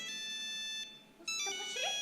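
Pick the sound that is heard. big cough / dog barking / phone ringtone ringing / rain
phone ringtone ringing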